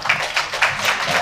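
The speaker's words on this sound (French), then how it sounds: "Je pense qu'on peut l'applaudir pour ça" Steady, close applause from an audience at a talk with authors, a dense patter of many hands held at an even level throughout a brief stretch, with little else audible.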